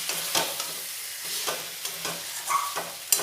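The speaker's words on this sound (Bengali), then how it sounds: "আলতির সাথেও মাংসটা একটু ভালো করে কষিয়ে নেব" Chicken pieces stirred and browned in a pan together with fried potatoes: a steady sizzle broken by repeated scraping stirs at a regular rhythm, close and fairly loud, with no voices.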